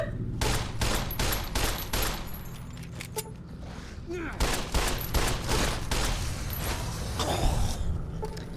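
Rapid bursts of gunfire ring out in Fallout New Vegas, crisp repeated shots in quick clusters with brief gaps, while someone talks over the combat.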